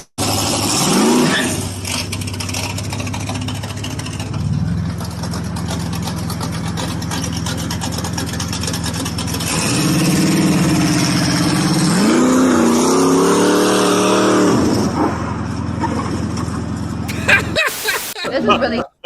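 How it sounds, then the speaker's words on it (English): A car engine idles and then revs, its low droning tone climbing and swelling midway before settling, heard fairly close under ongoing conversation. "I love the way that car sounds."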